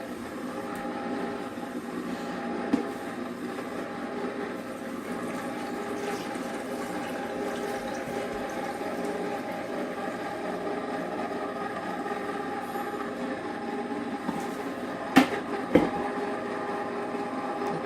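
A sorbet maker churns watermelon citrus sorbet with a steady, even motor drone that continues unbroken, punctuated by a few faint clicks and knocks near the end.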